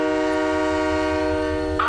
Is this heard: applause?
no